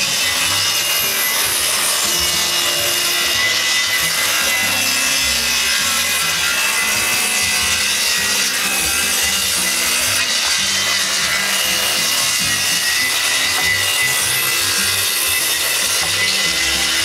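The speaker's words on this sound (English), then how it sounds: "And I just gonna go as fast as I can with the saw." A hand saw cutting quickly through wooden deck boards, continuous rapid rasping strokes, close and loud, with no talking.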